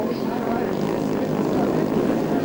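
Several racing jet ski engines drone and rev steadily together at moderate distance on the starting line of a Jet Ski World Cup race, forming a continuous buzzing roar with no pauses.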